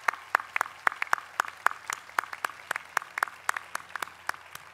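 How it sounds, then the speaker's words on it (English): Applause from a graduation ceremony audience, sparse and distinct claps in an uneven rhythm rather than a dense roar, fairly faint and heard alone without talk. "a round of applause."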